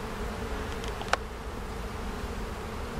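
Honey bees drone in a dense, continuous buzz at an opened hive during a beekeeper's brood inspection, steady and close, with one brief sharp click in the middle.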